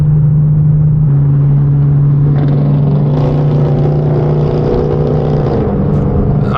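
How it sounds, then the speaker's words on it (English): A car engine and exhaust rumble steadily while driving, a low drone with a harmonic hum that swells as the car picks up speed partway through, loud and close with no talking. "Your car sounded a little bit like a wet fart though for some reason."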